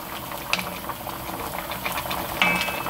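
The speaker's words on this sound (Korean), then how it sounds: "자, 이제 끓기 시작하는데요" Korean braised pollack stew (kodari jorim) bubbles in a pot over high heat, a steady close simmering patter with a few sharper pops and faint clinks, no voices.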